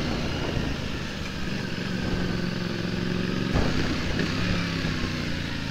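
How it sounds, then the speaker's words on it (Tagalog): A Honda Beat scooter rides along a bumpy, potholed road near Vera Falls in Malinao, Albay, its small engine droning steadily and close, with a brief jolt partway through as it hits a rough patch. "Napakalakas din itong Honda Beat na kasama natin."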